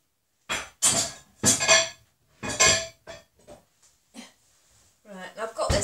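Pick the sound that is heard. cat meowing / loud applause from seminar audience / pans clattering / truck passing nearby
pans clattering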